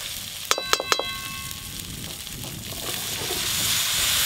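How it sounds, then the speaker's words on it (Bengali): Sliced bottle gourd drops onto spices frying in hot oil, a few clattering knocks followed by a rising, steady sizzle that grows louder and fills the rest of the moment. "এবার এই মশলার উপরে লাউগুলো দিয়ে দেবো।"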